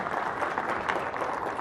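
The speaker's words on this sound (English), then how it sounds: "Did I hear somebody clap?" A conference audience at a Microsoft Ignite technical session applauds, a dense, steady patter of many hands clapping at moderate distance for under two seconds, with no talking over it.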